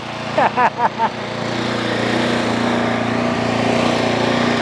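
A Toro Timemaster lawn mower engine runs at a steady, close drone, with a few short voiced bursts near the start before the engine continues alone.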